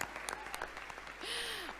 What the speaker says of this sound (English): Let's clap for God.